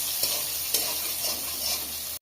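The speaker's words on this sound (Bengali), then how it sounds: "সোয়াবিন গোলটা ভাইজে নিচ্ছি, আলুটাও ভাইজে নিচ্ছি।" Soybean chunks and potatoes fry in hot oil in a home kitchen, a close, steady sizzle broken by a few stirring scrapes roughly every half second.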